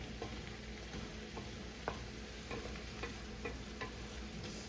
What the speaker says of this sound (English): kind of scrape the bottom of this pan with the metal spoon a little bit to kind of encourage that flavor